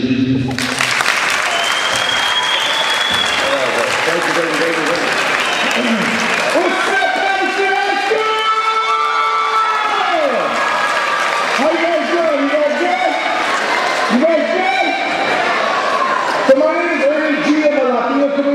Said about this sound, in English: please provide a warm welcome, a round of applause for our comedian, Mr. Ernie G.